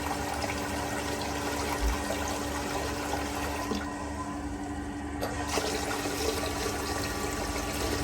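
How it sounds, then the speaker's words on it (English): Hot water runs from a tap in a steady, continuous hiss of flowing liquid, close and fairly loud, with a faint low hum underneath and no voices. "that's the hot water."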